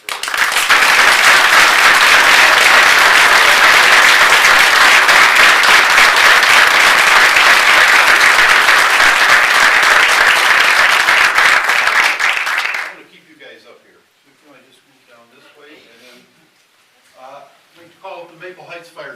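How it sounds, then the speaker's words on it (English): Audience at a city council meeting gives a long, loud round of applause for a fire department, dense clapping that fills the room for about thirteen seconds before cutting off into quiet speech. "So if you would please join me in just one final round of applause"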